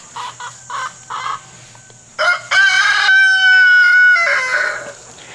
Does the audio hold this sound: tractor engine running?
no